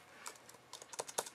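Quiet, close keystrokes on a computer keyboard while code is typed, a few sparse taps at first, then a quicker irregular run of clicks toward the end.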